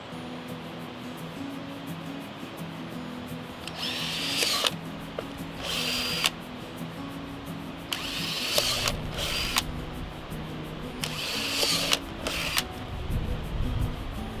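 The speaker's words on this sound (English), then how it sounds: "I'm going to go ahead and drill at each of those 3-inch markings all the way down the length of my tube" Power drill fitted with a 5/16 bit boring holes in PVC pipe, several bursts of high whine, each lasting about a second, spaced along a quiet background hum.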